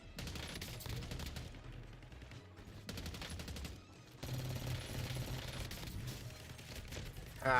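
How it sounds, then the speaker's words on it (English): Bursts of rapid automatic gunfire and single shots ring out in the Warzone video game. The shooting runs almost nonstop at moderate loudness, broken by brief lulls. "I'm getting shot at from somewhere else."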